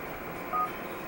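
A single short tone from a phone being dialed in the game GTA IV, brief and moderately clear, with a steady faint background and no voices.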